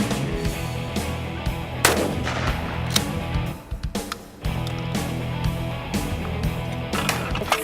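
Shotgun blasts ring out at a clay target shooting range, several loud sharp reports with echoing tails spaced across the stretch, one brief lull in the middle.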